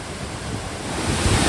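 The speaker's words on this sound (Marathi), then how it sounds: "निसर्गाचा चमत्कार आपण पाहतोय उक्षी रानपाट धबधबा" Ukshi Ranpat waterfall in Ratnagiri, a very tall cascade, gives a steady broadband roar of falling water that swells slightly toward the end, with no voices.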